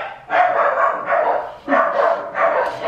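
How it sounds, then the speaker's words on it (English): Several dogs bark excitedly at close range, a run of loud, rapid, overlapping barks and yips in bursts with brief gaps between them. "The dogs are going wild"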